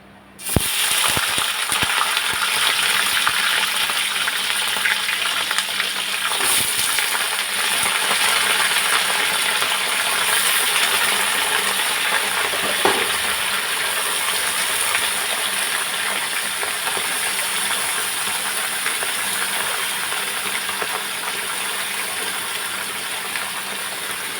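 Marinated chicken with onion drops into hot oil for a red Bengali chicken curry, setting off an abrupt start followed by a loud, continuous frying hiss with small pops throughout.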